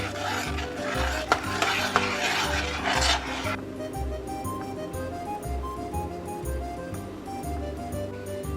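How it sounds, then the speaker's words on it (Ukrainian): A spoon scrapes and stirs thick semolina porridge with pumpkin in a pot, a soft repetitive rubbing rasp with slow, regular strokes that are busier at first and then settle into a quieter rhythm. "постійно помішуючи варим до готовності."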